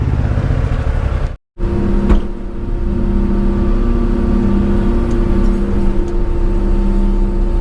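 An old John Deere 350 high lift with a four-cylinder engine running rough on three cylinders drones steadily while digging a basement, loud and close, with one brief dropout near the start and no talking.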